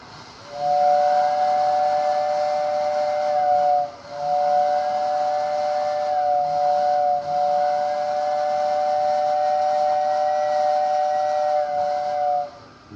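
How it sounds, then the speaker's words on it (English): A loud, steady steam-train style whistle from a 1946 Lionel toy train set, sounding in three long blasts with brief gaps, carrying a breathy hiss under the tone. "Show you guys the whistle here. That whistle's pretty crazy."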